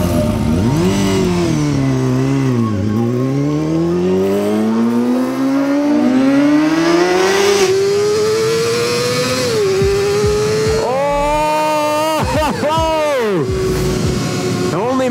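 A 1990s Honda engine revs extremely high, its loud sustained note sweeping up and down in long rises, then snapping through quick sharp blips near the end, with a voice talking over it.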